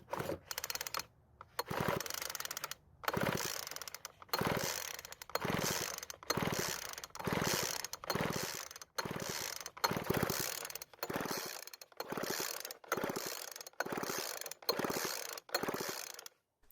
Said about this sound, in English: As you can see, as I'm pulling the rope